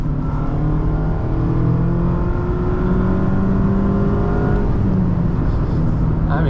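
A 2023 Mazda MX-5 Miata ND2 Club trim pulls hard, its engine note a loud, steady drone heard from inside the car that slowly climbs in pitch, then eases near the end.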